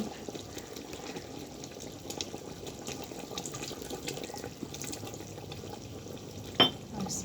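Chicken biryani gravy, thick with powdered milk and kewra water, being stirred in a pot: quiet, steady scraping and soft wet shuffling with a faint simmer underneath, then one brief sharp clink near the end.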